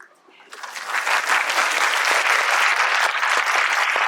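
A hall audience at a 2022 literary conclave in Mandi breaks into applause after a near-silent start; the clapping rises within a second into a loud, dense, even roar that holds steady to the end.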